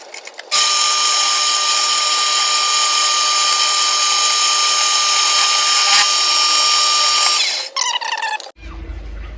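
A power drill whines steadily at high pitch for several seconds as it bores through wood, then slows and stops.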